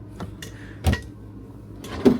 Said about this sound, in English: you got nice deep drawers. Soft close, all still soft close